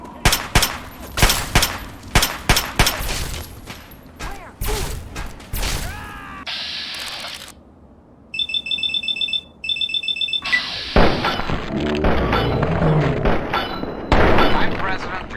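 Bursts of video game gunfire, some sharp single shots and rapid volleys, come and go alongside in-game electronic alarm beeps and mechanical clanks, with a voice talking over parts of it.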